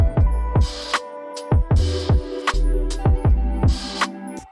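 A deep, boomy 808 bass one-shot with its high end cut off repeats in a rhythmic pattern, each thump landing hard and decaying quickly in a pulsing groove.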